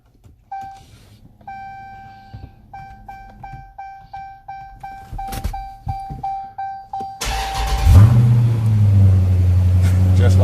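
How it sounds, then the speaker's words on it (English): Someone enters a PIN code on a car fitted with a hidden anti-theft kill switch, giving a series of short electronic beeps, then the engine cranks and fires into a loud, steady idle rumble close by. "enter my PIN code, and start this car"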